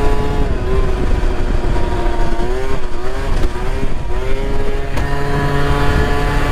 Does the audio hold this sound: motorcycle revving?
yes